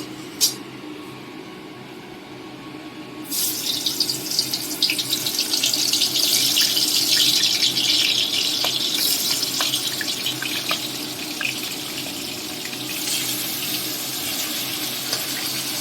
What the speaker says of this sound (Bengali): এবার এই তেলের মধ্যে প্রথমে মাছটা ভেজে নেব